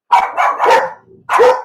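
A dog barks loudly and close by, three quick barks, a short pause, then one more sharp bark.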